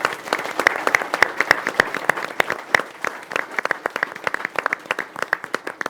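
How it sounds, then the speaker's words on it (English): An audience aboard the naval ship HMS Albion breaks into dense, steady applause, many hands clapping together at an even loudness for several seconds, with no voices over it. "round of applause to Albion"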